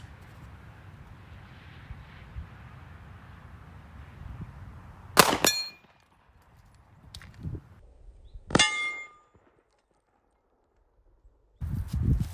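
Two sharp metallic clangs ring out as 9mm 124-grain rounds fired from an IWI Masada pistol strike steel targets 50 yards away, each impact distinct and resonant over quiet outdoor background noise.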